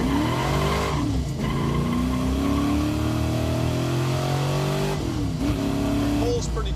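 The Disgustang, a roughly finished Mustang project car, accelerates on the road, its engine droning and rising in pitch through the gears with a loud, rumbly interior tone while people talk over it.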